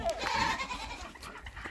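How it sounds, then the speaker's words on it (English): A horned female goat bleats on a muddy homestead during chores, a short wavering call near the start, with fainter farm noise and movement after. "So this is our only horned goat we have left."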